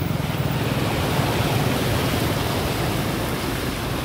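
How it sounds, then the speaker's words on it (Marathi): Water surging and sloshing as four-wheelers drive through a rain-flooded road between Devgad and Jamsande in Konkan, a steady loud rush of wash without pause. "हे बघा हे असे 4 व्हीलरवाले गेले की जरा जास्तच पाण्याचं फ्लो येतात."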